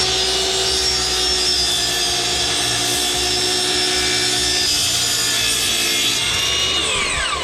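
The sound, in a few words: sawing scrap wood for a pedalboard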